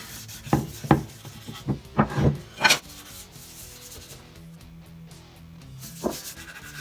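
Several quick rasping strokes of sandpaper on the wood of a homemade electric guitar come close together, then the rubbing stops, leaving a quiet stretch and one last short scrape.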